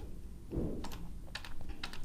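Computer keyboard key presses while modelling in PTC Creo 4.0 software, a handful of quiet, crisp clicks spaced irregularly over a soft background hum.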